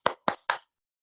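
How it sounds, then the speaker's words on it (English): Three crisp, evenly spaced hand claps, close and isolated with silence after, at the close of a mathematics lecture. "we should clap our hands"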